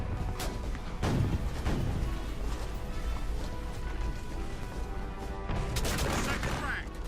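Musket volley gunfire in a War of 1812 battle reenactment, with several sharp, loud crackling bursts ringing out across a fairly steady background rumble.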